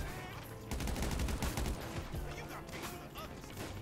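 Trevor firing a shotgun in GTA V from a distance: dense, crackling gunfire amid a busy mix of other gunshots and game sounds, with a voice speaking under it.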